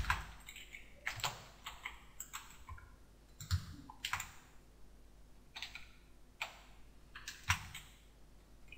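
HTML code typed on a computer keyboard, with quiet, close clusters of key clicks coming in short bursts separated by brief pauses.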